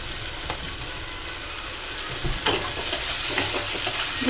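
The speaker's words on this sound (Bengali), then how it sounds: "মটরশুঁটি দিয়ে একটু ভালো করে ভেজে নেব তারপরে দিয়ে দেবো শিমলা মির্চ" Green peas and capsicum frying in a pan, a soft continuous sizzle with occasional spatula scrapes and stirring knocks, close and moderately quiet, no voices.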